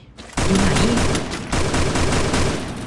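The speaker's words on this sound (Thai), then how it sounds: "มันยิงปิ้วปิ้วเลยนะสไนน่ะ" Sniper rifle fire in the mobile battle-royale game Free Fire, with two loud sharp gunshot bursts, the first near 0.4 s and the second near 1.5 s, each followed by a long dense ringing tail that fills the whole clip, with no talk.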